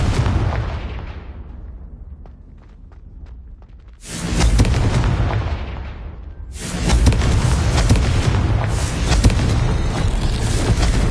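Fire and blasting spells explode in Hogwarts Legacy, a loud booming blast decaying over a few seconds, then two more heavy roaring explosions and sustained crackling rumble, close and dense with no speech.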